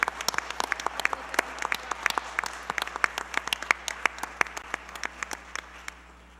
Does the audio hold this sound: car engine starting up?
no